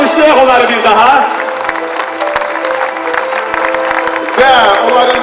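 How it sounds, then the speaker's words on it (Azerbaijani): An audience applauds gold medalists on stage at a school olympiad ceremony, with loud, dense clapping swelling at the start and end while a voice speaks over it. "Alqışlayaq onları bir daha."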